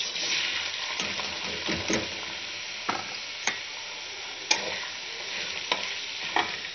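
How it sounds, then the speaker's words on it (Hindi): Onions fry in hot ghee in a kadai, a close hissing sizzle broken by sharp, regular clicks and scrapes of a spatula stirring the pan. "घी गर्म हो गया है। अब हम इसमें डालेंगे प्याज।"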